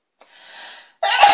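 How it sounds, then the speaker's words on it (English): A single close sneeze, a short rising breathy intake followed by a sharp, loud burst. "I'm about to sneeze"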